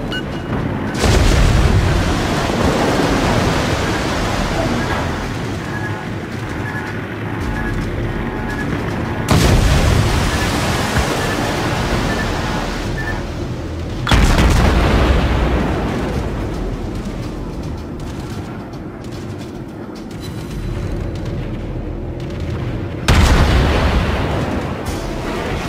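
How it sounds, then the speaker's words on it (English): Anti-aircraft guns on a warship in a naval combat video game fire in heavy, continuous barrages. Loud booms come in several long bursts, each broken by abrupt cuts. "Anti-aircraft gun crews are on full alert."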